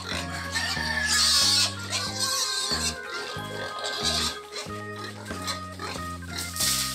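Domestic pigs grunt and oink at morning feeding time, a close, busy chorus over steady tonal background sound with no talk.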